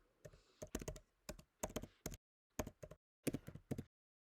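Bursts of computer keyboard typing, quick clustered clicks separated by short silent pauses, close and clear with no talking.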